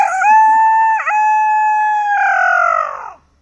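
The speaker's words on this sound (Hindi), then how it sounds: "मुर्गे की आपने आवाज सुनी होगी" A single loud rooster crow, close and clear, rising then holding a long drawn-out call that trails off at the end.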